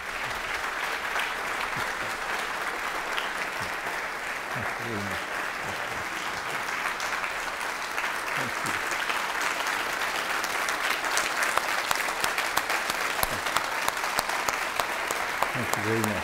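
An audience applauds steadily to welcome guest Khizr Khan at a book talk, sustained clapping filling the room at an even level and building slightly toward the end, with no break.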